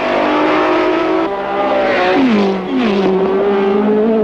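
Formula 1 race cars at the 1967 German Grand Prix, their engines loud and close, rising and falling in pitch as the cars accelerate, downshift and sweep past one after another.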